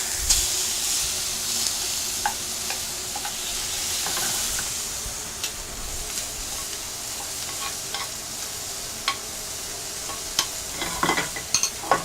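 Ling fish fillet being turned over while frying in a pan: continuous close sizzle and hiss with light scrapes and clicks from the utensil, alone.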